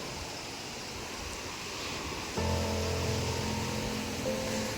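Surf washing onto the sandy shore of Konduri beach, a steady broadband rush with gentle swells, joined partway through by a low droning hum beneath the waves; no talking.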